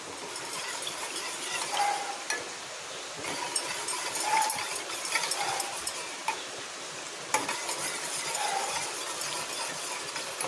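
Flaxseed simmering in water in a pot while being stirred, giving a steady soft bubbling hiss with light scraping and occasional clinks of the spoon, close and continuous without talk.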